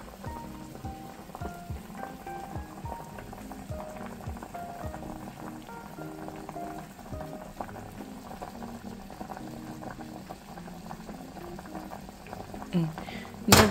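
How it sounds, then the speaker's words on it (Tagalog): Water boils in an old pot, bubbling and popping steadily at close range, with faint background sounds and a sharp clatter at the end. "Ayan na, kumukulo na siya"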